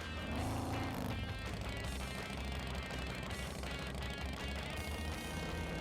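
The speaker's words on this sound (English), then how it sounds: "Maybe it's just that I can't hear anything over the sound of my awesome chopper" A chopper motorcycle engine from the American Chopper 2 video game drones loudly and continuously, a rough, pulsing low rumble with a brief rising rev near the start, then a steady chugging idle.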